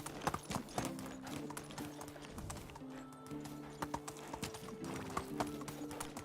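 Horse hooves galloping under a rider in the video game Medieval Dynasty, a quiet, continuous rhythmic clip-clop with faint neigh-like tones, sustained for about six seconds.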